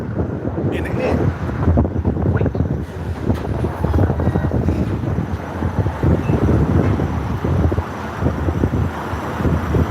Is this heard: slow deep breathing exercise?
no